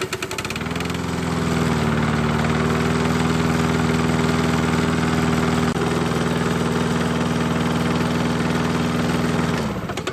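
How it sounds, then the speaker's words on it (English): A lawn mower engine, tested after its kill switch was bypassed, starts and runs steadily at a loud, even idle with a constant droning hum for about nine seconds before cutting off. "the engine seems to work just fine"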